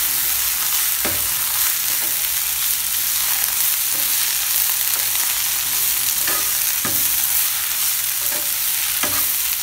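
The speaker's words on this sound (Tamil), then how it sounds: "இப்போ இது எல்லாத்தையும் நல்லா வதக்கிக்கலாம்." Onion, tomato and mint sauté in oil in a pressure cooker for chicken biryani, a dense, bright sizzle running throughout with occasional scraping stirs of the spatula, close and loud, without speech.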